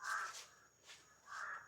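Two loud, harsh crow caws, one at the start and one at the end, with a fainter call between them, fairly close.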